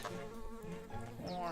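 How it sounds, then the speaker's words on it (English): Bees buzz in the video game Secrets of Grindea, a continuous droning hum that stays close and steady throughout. "Oh, I don't want to deal with bees right now."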